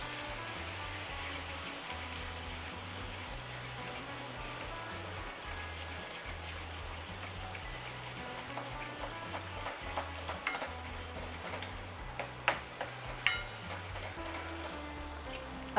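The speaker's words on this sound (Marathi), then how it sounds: "हे सगळं छान ढवळून घ्यायचं" Dry whole spices, ginger, garlic and green chilli frying in a pan for Nagpur-style tarri poha are stirred, making a soft, continuous sizzle with occasional sharper scrapes and clicks toward the end.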